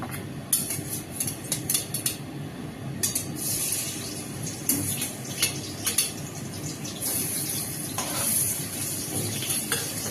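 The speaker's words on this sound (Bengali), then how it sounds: "ভেজে নেবো ইলিশ মাছটাকে" Hilsa fish pieces fry in hot oil in a kadai, a continuous crackling sizzle broken by repeated scrapes and clinks of a spatula against the pan, with no talking.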